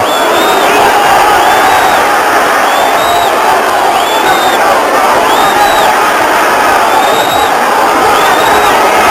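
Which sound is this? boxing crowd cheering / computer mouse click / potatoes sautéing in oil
boxing crowd cheering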